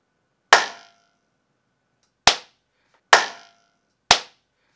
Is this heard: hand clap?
yes